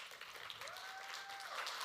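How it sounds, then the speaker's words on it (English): Audience applause after a talk by a tree-planting advocate, a soft, distant wash of clapping with a faint tonal whistle running through it, no clear voices. "So keep that applause going, guys."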